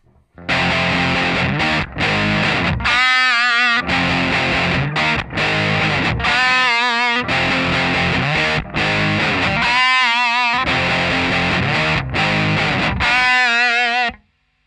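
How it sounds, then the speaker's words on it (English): A heavily distorted electric guitar plays a chugging power-chord riff, loud and continuous, with a bent note ringing out at the end of each phrase. "just got some power chords and then that bent note"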